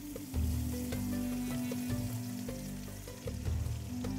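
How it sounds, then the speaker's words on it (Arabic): Oil poured over onions frying for shrimp biryani sets off a loud, steady sizzle and crackle up close, with a few clinks from the pan along the way and no talking. "الحين بنضيف عليه الدهن."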